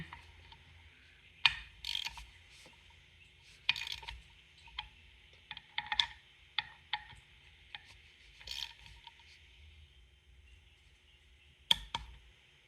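A torque wrench clicks sharply in scattered bursts as a bolt is tightened down, with quiet gaps and small mechanical ticks between the louder snaps, close and fairly faint.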